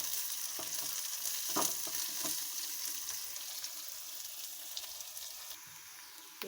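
Onions frying in hot oil with mustard seeds, a steady crackling sizzle with a few scraping stirs of a spoon, close and moderately quiet, no talk.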